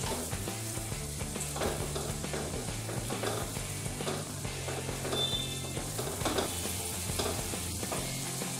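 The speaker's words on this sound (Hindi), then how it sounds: "ऑयल डाला है 2 चम्मच, अब मैं इसमें ऑनियन डालती हूँ" Onions sizzling in two spoons of oil on a tawa for vegetable butter pulao, a steady close frying hiss with faint stirring scrapes and a low background hum throughout, no talking.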